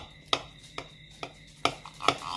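Five sharp, sparse knocks of a utensil cutting into a low carb breakfast casserole with bacon, each a crisp tap against the dish, spaced irregularly over a quiet background.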